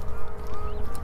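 Ducks at a lake in New Mexico in freezing weather, a close, loud burst of honking quacks with a nasal, tonal edge, heard alone.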